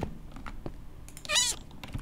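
A Minecraft cat gives one clear, drawn-out meow in the middle, with faint clicks and soft background noise around it.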